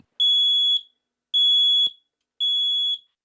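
A smoke alarm sounds three long, piercing high-pitched beeps at a steady rhythm, separated by short silences.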